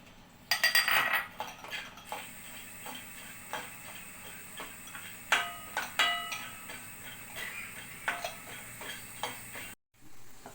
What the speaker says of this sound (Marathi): हे आपण शेंगदाणे चांगले परतून घेऊयात.